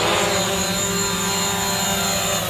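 A DJI drone, a Mavic or Phantom, lifting off with a loud, steady high-pitched whine of spinning propellers and motors, close and constant with no talk.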